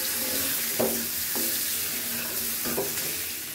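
Fish curry with chopped onion simmers and sizzles in a pan, a steady close frying hiss with a few spoon stirs and scrapes scattered through, and no voices.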